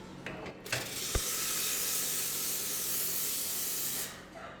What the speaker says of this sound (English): blast it with steam from the steam wand